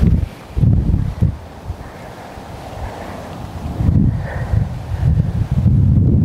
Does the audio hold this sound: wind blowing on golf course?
yes